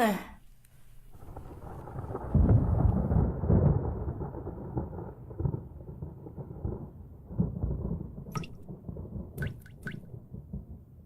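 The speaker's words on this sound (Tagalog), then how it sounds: "Umuulan na." Rain in a Doraemon cartoon, a steady patter of falling water with rumbling swells that rises after a quiet start and continues to the end, with a few brief sharp high accents.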